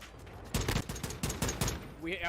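Gunfire in Warzone 2 on the Al Mazrah map: a rapid burst of about six loud, evenly spaced shots, followed by a brief rising whistle-like tone at the end.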